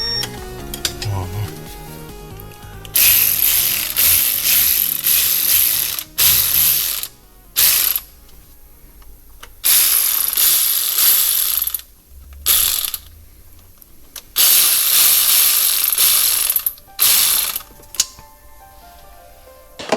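A ratchet wrench snugs bolts on a Mercedes 7G-DCT dual-clutch transmission of a B-Class 180, loud close bursts of rapid clicking separated by short pauses.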